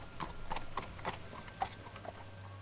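Steady hoofbeats of a horse in a video game clip-clop at an even walking pace over a low background hum, fairly quiet and close.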